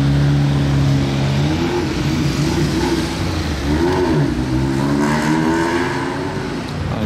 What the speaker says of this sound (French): La petite Lotus Elise, d'un très beau bleu. C'est un kart cette voiture.